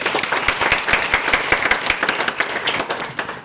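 An audience claps for two brothers at a network marketing seminar, a dense, steady burst of hand claps that stays loud throughout.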